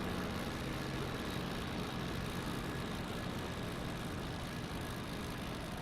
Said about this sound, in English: And I'm coming in to land.